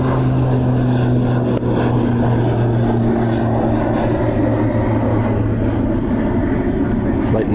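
Aer Lingus Regional airliner operated by Emerald Airlines at Dublin Airport, a loud, steady propeller engine drone with strong low tonal hum throughout, while people talk over it.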